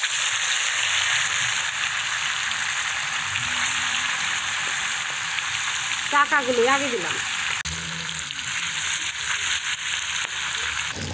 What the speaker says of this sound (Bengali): একে একে এখন মাছ দিই